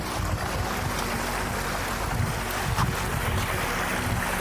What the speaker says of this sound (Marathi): पूर्ण खडक आहे आणि खडकावर पाणी वाहतं मस्त